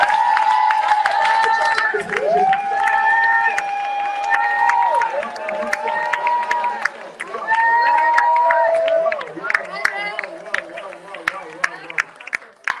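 A church congregation cheers and acclaims Jesus, with loud overlapping voices in rising and falling sung shouts that carry through most of the stretch, then thin out toward the end.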